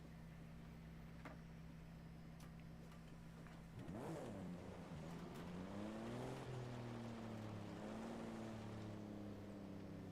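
A Toyota Supra engine in the racing game Forza Horizon 5. It hums quietly at first, then revs up with rising and falling pitch as the car accelerates through the gears. The sound stays fairly faint, with no talking.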